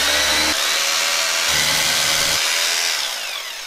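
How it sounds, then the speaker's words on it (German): A power drill driving into a wall while acoustic absorbers are hung in a home recording studio build: a loud, close, continuous grinding whir with two short bursts of lower motor strain, ending as the pitch eases off. "Dann gehe ich jetzt die Bohrmaschine holen."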